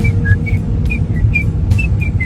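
A person's voice mimics a Mr. Whistle wind-up toy, giving a string of short, bright, pitch-wavering whistle chirps in a steady rhythm, loud and near over a low background rumble.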